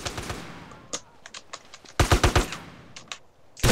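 Shotgun and other gunfire in GTA San Andreas, loud sharp blasts in quick bursts with clustered rapid shots and scattered single cracks.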